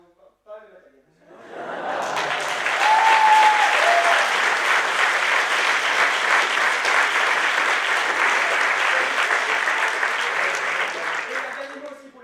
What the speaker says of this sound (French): Donc on peut applaudir encore une fois Louise Bachemont et Philippe Bell.